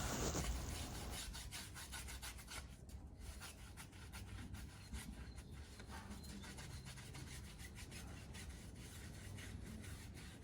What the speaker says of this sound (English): Try and get in all the little tight spots and clean every part of the wheel you can